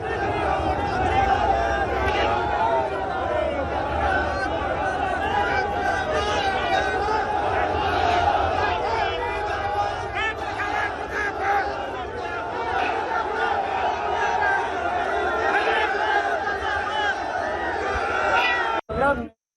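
A crowd chants political slogans at a farmers' gathering in Haryana. Many voices shout together in a loud, continuous mass with rhythmic surges, close and dense throughout.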